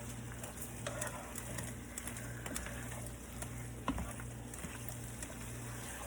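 Teriyaki steak and chicken with shrimp stirred in a hot pan, a steady close sizzle with repeated scraping and clicking stirs, moderately loud and without talk.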